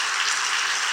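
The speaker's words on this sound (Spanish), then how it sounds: "¿Cuánto le dan un aplauso al Señor por eso?" A church congregation applauds in praise during a sermon, a dense, steady wash of clapping from many hands filling the room without pause.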